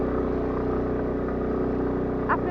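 A scooter with an Italian engine carries a rider and pillion toward Bishnudwar Waterfall in Shivapuri National Park, its engine droning steadily and close with a continuous low hum and road rumble.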